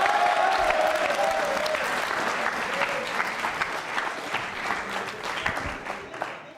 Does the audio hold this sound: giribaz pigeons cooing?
no